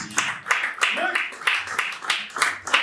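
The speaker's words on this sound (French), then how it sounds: "Maestro, levez-vous, maestro. On applaudit." Audience applause for a maestro at an album launch ceremony, broad clapping swelling in repeated bursts through the clip, fairly close and loud, with voices mixed in.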